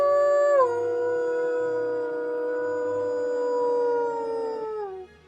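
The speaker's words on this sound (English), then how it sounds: "You found my wolf howl." A single long wolf howl in the Monster Hunter video game, loud and sustained, with a slowly falling pitch that trails off at the end.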